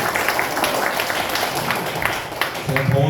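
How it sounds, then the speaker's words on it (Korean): A church congregation breaks into dense, steady applause filling the room at close range, and a voice begins speaking over it near the end. "우리 박수로 부탁드립니다"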